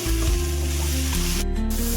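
Food sautéing in ghee in a pan over a low flame, a dense close sizzle under a steady low hum, loud and unbroken for a brief moment.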